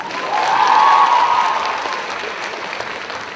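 A concert audience at a J-rock event claps loudly in a dense wave, with a sustained tone and faint cheering above it, easing slightly toward the end.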